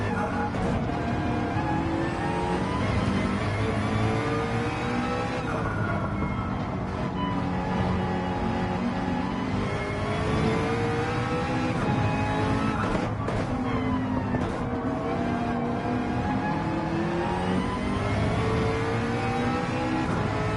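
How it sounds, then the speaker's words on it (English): A McLaren race car in a racing game at Fuji brakes hard into the Dunlop corner, its engine note loud and steady, dropping in pitch through rapid downshifts with brief blips between gears. "driving this McLaren like a boss, hard on the brakes into the right-hander of Dunlop corner"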